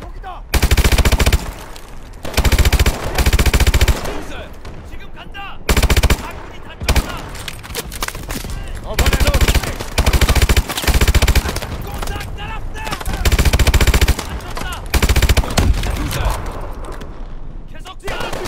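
Loud bursts of machine gun fire in the shooter game Call of Duty Advanced Warfare come in repeated rapid volleys across the clip, with short pauses between them, and a voice talks among the shots.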